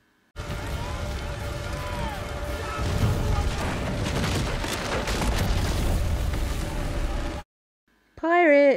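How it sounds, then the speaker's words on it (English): Naval cannon fire and battle din from a pirate ship fight in the TV series Black Sails, a sustained loud rumble of booms and clatter that cuts off abruptly, followed by a short burst of other sound. "Andy's making them use cannons, so that's using up some of their artillery."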